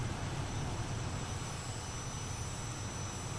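A flight-simulator airplane taxis out, giving a steady, faint engine hum and whine with no talk over it.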